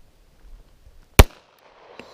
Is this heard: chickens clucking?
no